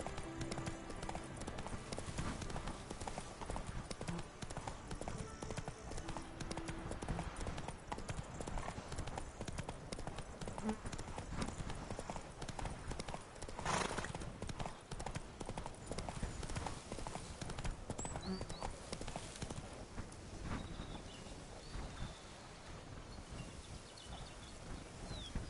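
Steady clip-clop of Roach the horse's hooves in a video game, a continuous trotting rhythm throughout, close and fairly loud, with occasional faint background sounds and a brief snort.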